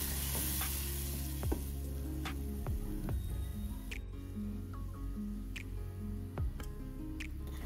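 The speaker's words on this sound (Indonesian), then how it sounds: "masukkan sisa margarin. Aduk-aduk sampai margarinnya mencair" Margarine melts in a hot pan with a steady sizzle while a utensil scrapes and stirs through it, with occasional sharp clicks against the pan, close by and without any talk.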